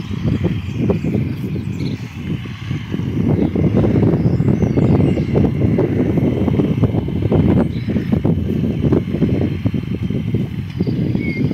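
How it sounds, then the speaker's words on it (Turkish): Steady wind blowing across open farmland in the countryside of Kayseri's İncesu district facing Mount Erciyes, a loud continuous rushing buffet against the microphone with gusty fluctuations and no talk. "Erciyes'in rüzgarı sürekli sırtımızda."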